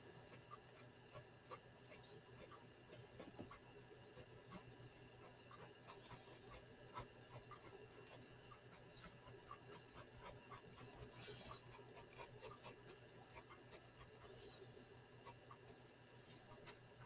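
A pencil sharpened by hand while drawing, giving a quiet, steady run of rhythmic scraping rasps, faint and close, with no talking over it.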